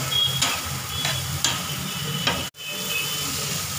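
Vegetables such as beans, peas and potatoes being stirred in a hot pan for tawa pulao, with a steady sizzle and a few scraping strokes of the spoon, the last one ending in a brief break before the frying noise resumes.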